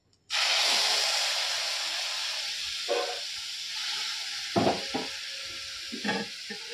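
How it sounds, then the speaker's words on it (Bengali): Dal tempering with white cumin, ginger and bay leaf sizzles in hot oil: a sudden loud steady hiss that gradually eases, broken by a few louder spits and stirring clatters, with no talk. "সাদা জিরে আদা তেজপাতা দিয়ে দিয়েছি।"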